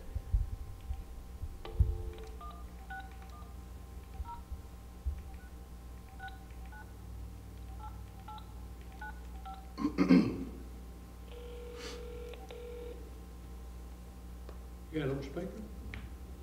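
A telephone number is dialed by hand, producing a series of short touch-tone beeps in small groups spread over the clip. The beeps are soft against a low hum, with a couple of brief handling knocks.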